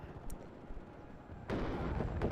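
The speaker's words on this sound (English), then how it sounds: "Cluster coming in again, going for that Chieftain Mark 9." Cluster munition strike on a Chieftain Mark 9 tank in the WARNO wargame: a sharp crack early on, then a loud, rumbling burst of explosions from midway that keeps going to the end.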